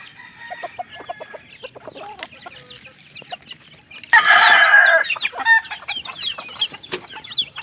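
Chicks and hens in a small backyard pen cluck and peep at feeding time, with scattered soft calls building to a loud burst of clucking midway and busy chatter afterward.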